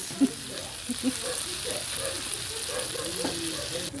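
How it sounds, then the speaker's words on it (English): Dinakdakan sizzles on a hot plate at a beach lounge on Bantayan Island, a steady crackling hiss of frying with a few soft clinks near the start, close but fairly quiet. "Oh, sizzling dinakdakan."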